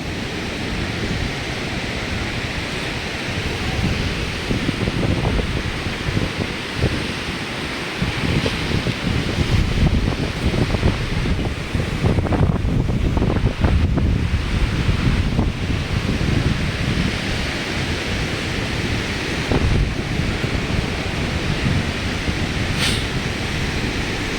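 Steady wash of wind and surf along Boracay's beachfront at low tide near Station 1, a broad continuous roar with gusting swells and no voices.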